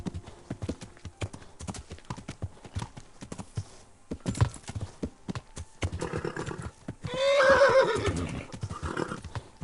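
Horse hooves clip-clop steadily in Kingdom Come: Deliverance, joined near the end by a loud, close whinny while the horse moves through open ground.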